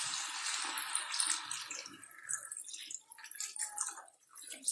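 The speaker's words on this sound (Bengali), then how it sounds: "একটু জল দিয়ে দিচ্ছি।" Water being poured into a pan of Bengali shukto as it cooks, a splashing, trickling pour that sits close and fairly steady before easing off, with no talking.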